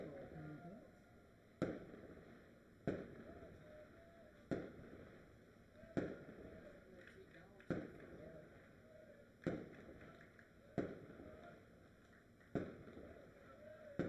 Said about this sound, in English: Fireworks going off over at the softball complex.